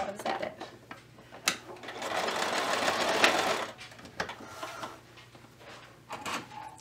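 A sewing machine back-stitches across a towel apron with twill tape, a steady close whirring run of a couple of seconds framed by short starts, stops and small handling clicks.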